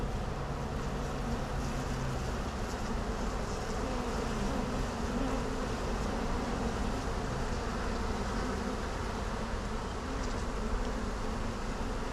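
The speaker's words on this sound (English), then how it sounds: "Some of those bees are just happy to be flying." A dense, continuous buzzing hum of a honey bee swarm flying close around during transfer to a hive box, steady and layered throughout with no talking.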